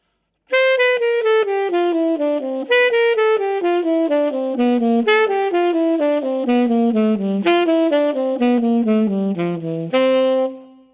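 A single melodic instrument plays a continuous bebop scale exercise, a stream of short, evenly paced notes stepping down the scale and jumping back up, with no pauses.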